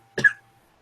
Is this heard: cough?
yes